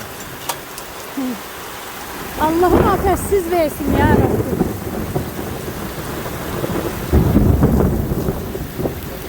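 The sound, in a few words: heavy hail falling with thunder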